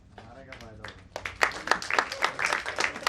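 An audience breaks into rhythmic clapping partway through, with sharp repeated claps building after a person speaks briefly at the start.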